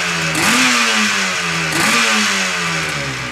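A motorcycle engine fitted with Mikuni carburetors revs twice in quick succession, each blip rising sharply and then sagging back toward idle, loud and close with no one speaking.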